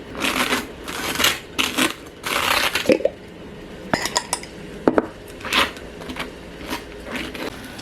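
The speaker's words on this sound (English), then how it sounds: "A little ASMR experience for me prepping my toast" Cutlery clinks and scrapes against dishes during toast and jam prep, with close bursts of knife spreading and scattered sharp taps and clatters spaced unevenly across the stretch.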